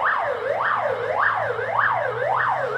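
A wailing siren sweeps up and down in steady, repeated cycles, loud and continuous like a nearby ambulance passing.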